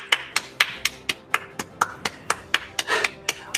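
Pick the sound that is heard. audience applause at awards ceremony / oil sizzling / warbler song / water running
audience applause at awards ceremony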